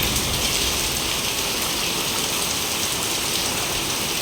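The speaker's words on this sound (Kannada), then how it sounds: "ಫುಲ್ ನೀರು ಹರ್ಕೊಂಡು ಹೋಗ್ತಾ ಇದೆ ಅಷ್ಟು ಜೋರಾಗಿ ಮಳೆ ಬರ್ತಾ" Heavy rain pours down in a dense, constant hiss, loud and unbroken throughout, with no voices.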